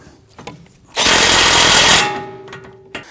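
A power tool tightens the nut on a tie rod of a 2009-2017 Volvo XC60 steering rack, one loud buzzing burst of about a second, with quieter clicks and handling noises before and after.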